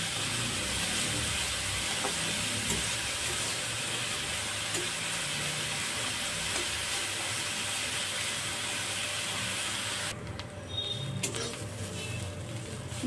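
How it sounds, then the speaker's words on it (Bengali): Onion and carrot frying in hot oil in a kadai make a continuous hissing sizzle with faint stirring, close and steady, easing slightly toward the end, with no voices. "পেঁয়াজটা দিয়ে গাজরটা দিয়ে ভালো করে নেড়ে ছেড়ে নেবো।"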